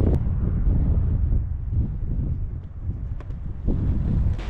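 Headwind gusting across the open Kazakhstan steppe near the Caspian Sea, buffeting a touring cyclist's microphone in a steady, loud, low roar with no voices.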